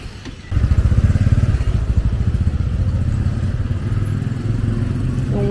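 A motorcycle engine rumbles loudly close by as it passes, its steady putter continuing throughout.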